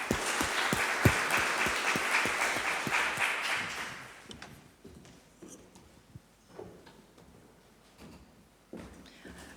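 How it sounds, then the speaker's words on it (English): Audience applause at a futures-literacy forum, a moderately loud burst of many hands clapping that fades out after about four seconds, leaving quiet room noise with scattered knocks and shuffles. "Let's give her a round of applause."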